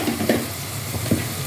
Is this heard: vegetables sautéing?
yes